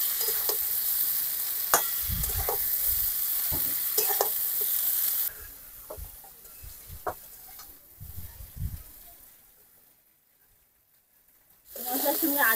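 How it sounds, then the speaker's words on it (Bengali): Potatoes and fried eggplant being cooked down with spices make a sizzling hiss with stirring knocks and scrapes, loud at first then quieter and intermittent, fading to near silence before a burst of noise returns at the end. "মশলার সঙ্গে আলু বেগুন খুব ভালো করে কষিয়ে নিয়েছি।"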